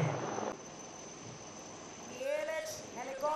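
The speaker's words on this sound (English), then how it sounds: "The ALH helicopter to your left can now be seen lowering the rescue basket" An ALH helicopter hovers during a military rescue demonstration at a defence expo, its steady whirring drone heard from a distance under crowd noise, with voices rising over it toward the end.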